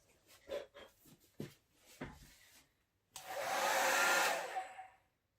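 A hair dryer switches on and blows with a steady, loud whoosh for about two seconds, then cuts off, following some soft handling clatter, while drying an acrylic paint pour in a cup.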